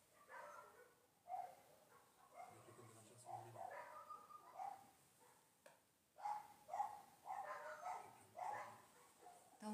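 Dogs bark and whimper faintly in the distance at night near an abandoned manor, in scattered bursts among soft bird calls and low background noise.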